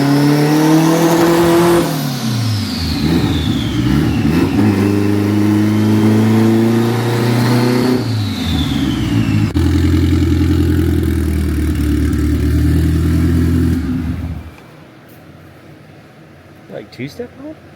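A Honda Accord engine revs hard, climbing and dropping in pitch through several pulls with a harmonic-rich snarl, then cuts off to near silence with faint sounds at the end.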